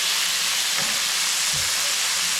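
Oil sizzles in a frying pan while Bicol Express is being cooked, a steady close hiss with faint stirring knocks and no talking.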